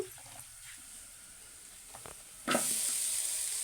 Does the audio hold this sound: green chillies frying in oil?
yes